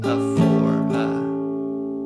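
Acoustic guitar playing the intro measure of a song, a bass note followed by quick up-down-up strums, with chords ringing out clearly and alone, slowly decaying.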